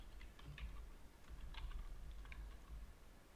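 Steady typing on a computer keyboard, a run of soft, quick key clicks in loose bursts, close and fairly quiet over a low background hum.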